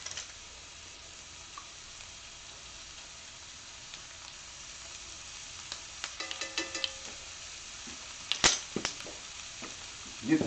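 Shrimp fajitas with poblanos and taco seasoning sizzling softly in a hot pan, a steady faint crackle with louder clinks and stirring scrapes toward the end.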